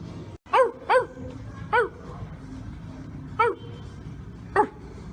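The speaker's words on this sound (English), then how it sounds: "Come on, bark at me. Come on, buddy, bark back." A dog barks outdoors on a Miami trip: five sharp barks, a quick pair and then three more spaced out, fairly close over steady background noise.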